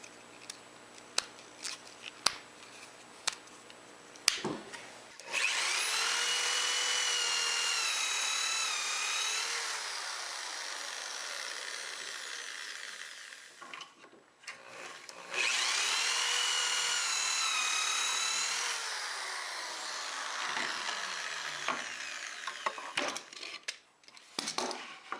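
A power drill driving 1-inch panhead screws into wood while building a wooden step stool: a few sharp taps and clicks, then two long, close, whining drill runs of several seconds each, separated by handling clatter.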